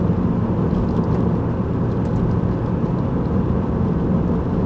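A 2003 Toyota Camry XLE accelerates on a residential street, its engine and road noise forming a steady, loud low rumble heard from inside the cabin.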